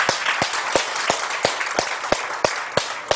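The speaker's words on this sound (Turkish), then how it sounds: "Hadi bakalım koca bir alkış istiyorum" A TV studio audience claps along to music, with a clear, regular rhythmic beat of hands marking time, steady and even across the whole stretch.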